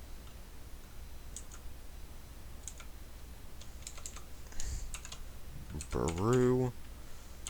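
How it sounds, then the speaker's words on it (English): Sparse clicks of typing on a computer keyboard while entering a name in Photoshop, scattered light taps near the mic, then a brief spoken word near the end. "we'll just type in"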